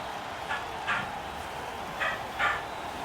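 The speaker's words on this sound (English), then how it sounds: "Can we stop Bella barking," Bella the dog barking in the background of a room, four short muffled barks in two pairs, faint and distant under a steady hum.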